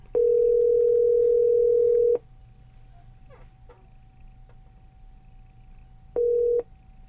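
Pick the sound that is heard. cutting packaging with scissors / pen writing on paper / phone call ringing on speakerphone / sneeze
phone call ringing on speakerphone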